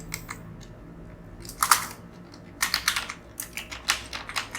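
Computer keyboard keys tapped as a word is typed in WordPad on Windows 10, a short burst of clicks, a pause, then a faster run of close keystrokes.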